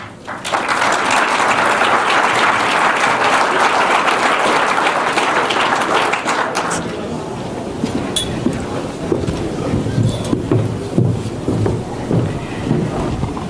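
A large audience at an innovation showcase and awards event applauds loudly and densely for about seven seconds, then the clapping thins into scattered claps under a low murmur of voices.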